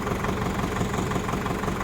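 A tractor engine idles steadily after its antifreeze has been changed, a loud, continuous low rumble with an even mechanical knock running through it and no talk over it.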